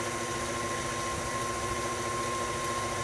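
An electric mixer runs continuously, beating lemon chiffon cake batter, giving a steady, even motor whir with a constant tone and no talking over it.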